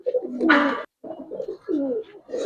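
Giribaz pigeons, two years old, in a loft coo in repeated throaty rolling phrases, close and fairly loud, with short pauses between bursts and a brief rustle or flap in the middle.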